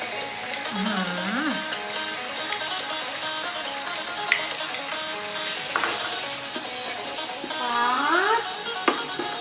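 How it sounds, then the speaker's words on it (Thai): Chili being stir-fried with stink beans in a pan gives a steady, close sizzle of frying food with stirring scrapes and a few sharp clinks of utensils against the pan. "หลังจากนั้นนะคะ เราก็ใส่พริกลงไปผัดนะคะ"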